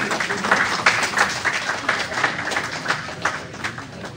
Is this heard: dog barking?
no